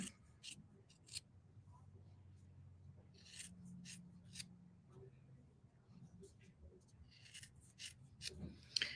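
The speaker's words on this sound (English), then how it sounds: "we're going to cut them into pairs" Scissors cutting felt pieces into pairs for a beginner shamrock and flower craft, giving a series of soft, close snips and rustles in short bursts, with faint low background hum.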